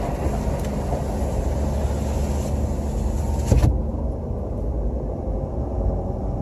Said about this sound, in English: So, I'm driving a little bit now. Let's see how these things work over bumps.